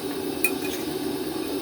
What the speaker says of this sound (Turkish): Şimdi çatalımız ile karıştırıyoruz